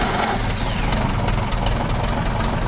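A Ford Formula 2000 race car engine fires up and runs, a loud, continuous mid-pitched engine roar with a faint rising whine early on, steady throughout with no talk.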